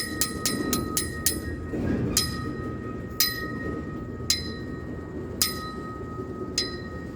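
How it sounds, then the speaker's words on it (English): A Florida East Coast train rolls past, its wheels clacking over the rail joints in a sharp, irregular rhythm above a low, steady rumble. No one speaks. "now train is moving."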